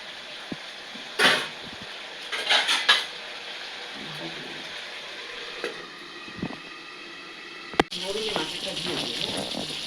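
Potatoes and pointed gourd cooking in oil in a pan for a thin fish curry, with a soft steady sizzle broken by a few utensil clatters and scrapes, then a brighter burst of frying near the end.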